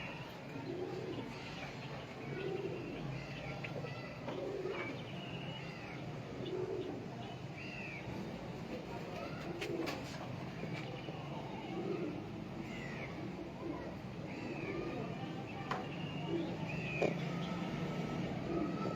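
Sialkoti pigeons coo softly and repeatedly in a loft, low rolling calls overlapping against steady background noise with occasional chirps; someone speaks quietly at times.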